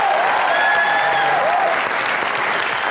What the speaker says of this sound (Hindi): एक बार जीतू जी के लिए और तुषार के लिए जोरदार तालियां।